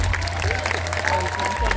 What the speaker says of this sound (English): A huge round of applause from a model from Ireland.